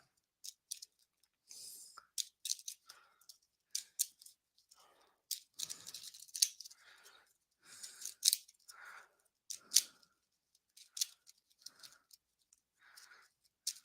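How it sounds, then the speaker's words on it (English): Crisp, papery riffling and snapping in short bursts, like cards being shuffled and bridged, repeated several times close up with brief pauses between. "We'll reshuffle the cards here"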